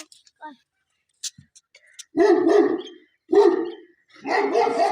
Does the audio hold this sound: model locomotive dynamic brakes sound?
no